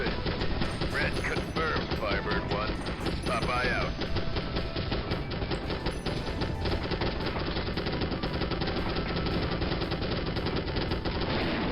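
Anti-aircraft gun fire in the 1998 game M.I.A. Missing in Action, a dense, continuous volley of rapid shots with game music and battle noise throughout, while a voice talks over it.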